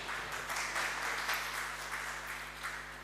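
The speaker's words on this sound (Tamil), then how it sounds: "கைதட்டுங்க" An audience at a Tamil astrology talk claps together for a few seconds, a steady moderate patter of many hands heard from a distance over a low electrical hum.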